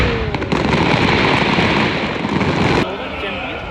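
Fireworks finale over Doha at Katara, a dense rumbling roar of crackling bursts and booms that cuts off abruptly near the end, loud and close, with crowd voices and talk mixed underneath.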